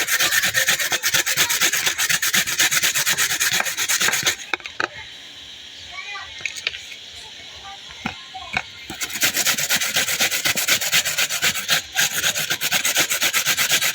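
Papaya is grated by hand for lumpia, a loud, continuous close-up rasping scrape that pauses for a few seconds midway with light knocks, then resumes.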